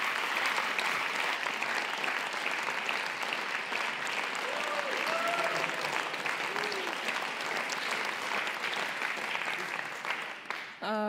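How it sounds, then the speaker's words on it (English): Warm audience applause for workshop participants at a closing ceremony, a sustained dense clatter of many hands that holds steady and then cuts off abruptly near the end. "Please give a very warm applause to our workshop participants who are about to come on the"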